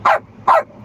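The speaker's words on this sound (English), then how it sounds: "Dogs are going to give us hell" Two sharp dog barks in quick succession, close and loud, with a short pause between them and only a low background hum otherwise.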